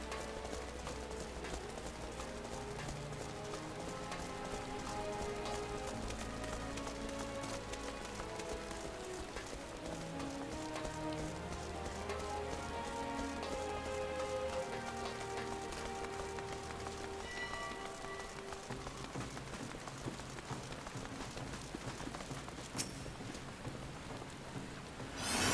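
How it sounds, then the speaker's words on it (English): Rain falls steadily in Final Fantasy XIV, a constant soft hiss that runs under quiet game music and ambience, with a brief sharp chime near the end. "Oh my god, it's still raining."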